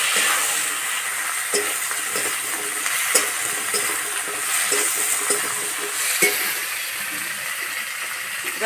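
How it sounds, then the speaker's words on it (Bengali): Mixed vegetables fry in oil with crushed garlic in a pan, giving a constant hissing sizzle while a spatula scrapes and taps at irregular intervals, close up and with no voices. "এবার সবজিগুলো দিয়ে দেবো।"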